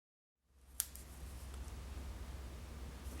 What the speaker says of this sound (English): again, cut off the excess.